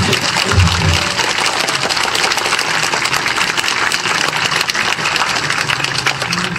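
An audience at a political rally in Andong gives sustained, loud applause that fills the whole stretch as an even, dense patter of many hands.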